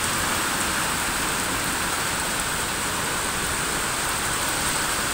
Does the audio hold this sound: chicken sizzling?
no